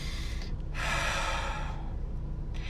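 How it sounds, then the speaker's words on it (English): A single deep breath, drawn in and released as a steady broadband rush lasting about a second, close and fairly soft against a quiet background, with a fainter breath near the end. "Take a deep breath"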